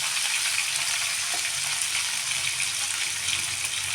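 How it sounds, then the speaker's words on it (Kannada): Tomatoes with a spoonful of salt frying in a pan for an avarekalu (field bean) palya, giving a steady, close, even sizzle that holds for the whole stretch with no voices. "ಸ್ವಲ್ಪ ಟೊಮೊಟೊ ಹಾಕಿಬಿಟ್ಟು ನಾನು ಈಗ ಫ್ರೈ ಮಾಡೋಣ"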